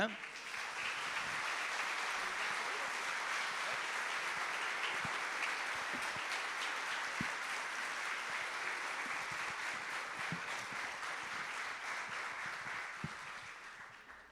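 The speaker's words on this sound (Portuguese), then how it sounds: "o pastor Rodrigo, celebrando ao Senhor Jesus com as nossas palmas," A church congregation claps together in praise, a dense and sustained round of applause that fills the room and holds steady throughout.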